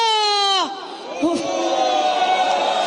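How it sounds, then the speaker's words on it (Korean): A large crowd at an outdoor political rally roars and cheers in a sustained wave of shouting; a loud, sustained voice at the start gives way to the mass cheer. "다 함께 새누리당이 가슴이 서늘하도록, 휴가간 박근혜 대통령 가슴이 서늘하도록 힘차게 한번 함성과 환호 시작하겠습니다."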